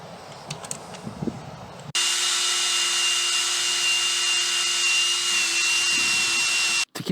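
Electric drill cutting out a bolt on a pearl white truck being readied to tow an RV: quiet handling noises, then a sudden loud, steady drilling whine held for about five seconds, briefly stopping and restarting near the end.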